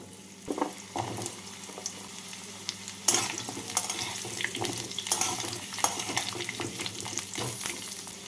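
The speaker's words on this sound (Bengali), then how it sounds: "এর মধ্যে আমি কেটে রাখা সবজিগুলোকে দিয়ে দেব দিয়ে দিচ্ছি কুমড়ো" Chopped pumpkin and other vegetables tumble into hot oil seasoned with panch phoron and chili, sizzling and crackling with scattered clatters and stirring scrapes, fairly quiet and without voices.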